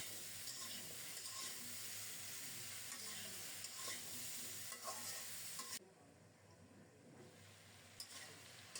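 Mixed vegetables such as pumpkin, carrot and papaya cook in a pan over low heat with a soft, continuous sizzle and intermittent stirring scrapes, fairly quiet overall, dropping lower partway through as the pan settles.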